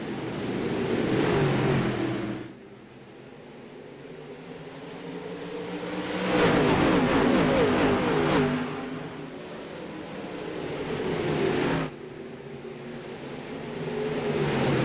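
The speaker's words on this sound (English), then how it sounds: "Standing on the loud pedals, Dylan." Dirt late model race cars roar past at the green flag, engine noise swelling loud then dropping in repeated waves as they pass, with no talking.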